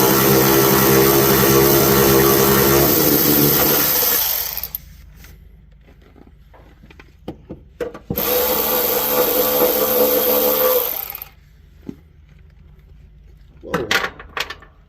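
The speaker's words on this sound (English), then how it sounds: "That's why I like to use my impact to break them loose." Impact wrench breaking bolts loose while removing the front clip of a Jeep Grand Wagoneer, two loud sustained bursts of a few seconds each with quieter clanks and handling sounds between them.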